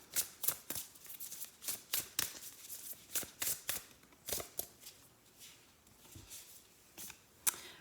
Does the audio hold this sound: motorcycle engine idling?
no